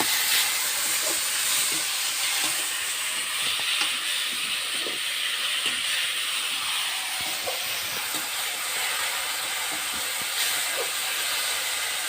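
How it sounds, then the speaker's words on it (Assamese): Crushed ginger and garlic frying in a pan for a village-style meal, giving a steady, close hiss and sizzle throughout with faint scattered ticks and crackles, and no voices. "আদা ৰচুনৰ গোন্ধ নোযোৱালৈকে অলপ টাইম ভাজি ল'ম"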